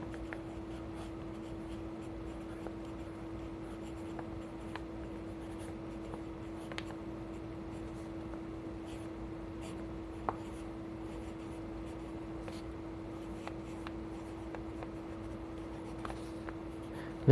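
Pen writing lottery numbers by hand on paper, a steady faint scratching with a constant background hum and occasional small taps, no voices.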